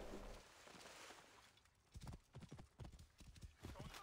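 Horse hooves clip-clop on the ground in Assassin's Creed Origins, a steady run of close, distinct hoof strikes after a softer opening stretch, with a brief whinny-like sound possible.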